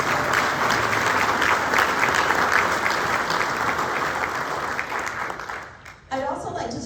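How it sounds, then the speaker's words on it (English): Dense, steady applause fills a large room at a city update event with the mayor, staying loud and continuous before dipping briefly near the end and resuming. "Round of applause for our sponsors"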